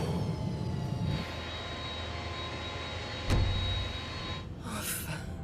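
A passenger airliner coming in to land in a disaster film: a steady engine roar fills the cabin, with one sharp thump partway through and a rising hiss near the end.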